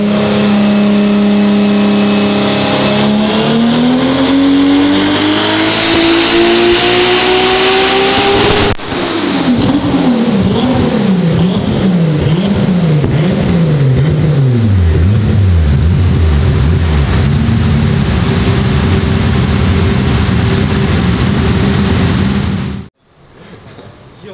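Heavily modified car with close to 1000 horsepower revving hard on a dyno during a tuning run, loud engine pitch climbing, then sweeping down and up repeatedly before cutting off abruptly at the end, with occasional talk.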